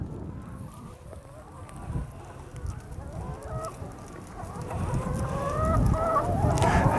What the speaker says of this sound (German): Die Hühner, sie kommen.